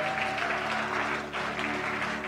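Church congregation applauding steadily in praise, a dense continuous wash of clapping with a faint sustained musical tone underneath.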